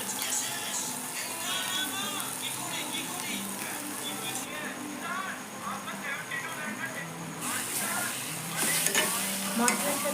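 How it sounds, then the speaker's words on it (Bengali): Mashed potatoes for egg curry are stirred in a pan, giving a steady close scraping and soft squelching with a light sizzle underneath throughout. "আলুটা খুব ভালো করে মিক্স করে নেব"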